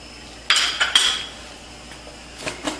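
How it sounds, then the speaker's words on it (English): A spoon drops about two tablespoons of butter into a pan, giving a couple of sharp metallic clinks and scrapes up close, then a few lighter taps after a quiet pause. "Put about 2 tablespoons of butter in here."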